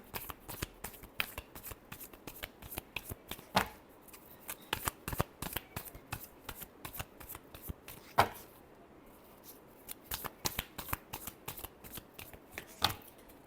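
A deck of tarot cards is shuffled by hand in rapid bursts of crisp riffling snaps, close and clear, with brief pauses between runs and no voices.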